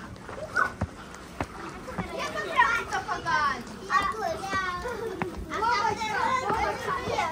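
Excited children's voices shout and chatter in a steaming jacuzzi at a mountain lodge, over a steady background hum, with occasional splashes of water nearby.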